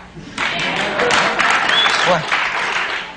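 Audience applause from a studio crowd fills the scene, a dense steady wash of clapping after a quiet start, with a voice briefly cutting through.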